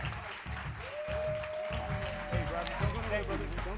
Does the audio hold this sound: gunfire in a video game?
no